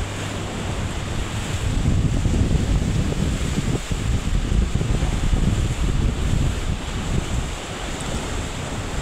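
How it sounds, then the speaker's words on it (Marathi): Floodwater of the swollen Manjra river roars over a bridge after heavy rain, a dense, steady rushing wash that holds loud and unbroken throughout. "इतका पाण्याचा आवाज येतोय आणि पाणी बघून तर अक्षरशः डोळे गरगरत आहेत"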